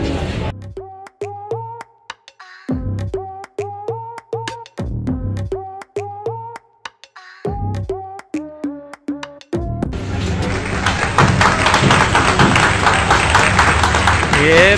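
Clapping and cheering break out to celebrate the delivery of a new Royal Enfield Bullet motorcycle. The burst of applause starts about two-thirds through, loud and dense, after a stretch of tonal music with voices.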